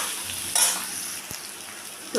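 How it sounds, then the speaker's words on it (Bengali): Onion, ginger and garlic fry in a pan, giving a soft steady sizzle with a brief stirring scrape, close and quiet, no voices. "এগুলো একটু ভেজে নেব।"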